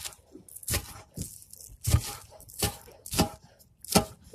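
Vegetable stalks chopped with a dull knife, giving about seven loud, separate crunching, tearing cuts spaced irregularly, close up with quiet gaps between them and no talking.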